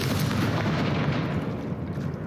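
A Confringo spell explodes in the video game Hogwarts Legacy, a loud, dense, rumbling blast that fills the whole moment with continuous booming roar.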